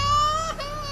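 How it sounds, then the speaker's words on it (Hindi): An infant cries in a short whimpering wail within a horror animation, a single drawn-out tonal cry that wavers and breaks midway, heard alone. "ये अचानक बच्चे के रोने की आवाज कहां से आने लगी?"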